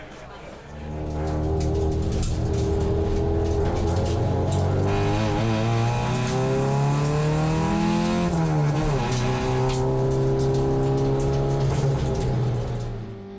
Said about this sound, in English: I thought why not take you guys for a ride around Mount Panorama in a little Hyundai XL